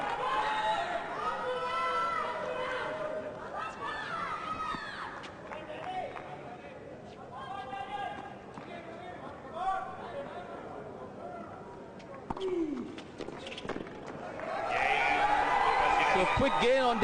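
Tennis crowd at the Chennai Open quarterfinal reacts with excited cheering and chatter after a quick service game by Daniel Nestor, swelling loudly near the end under commentator talk.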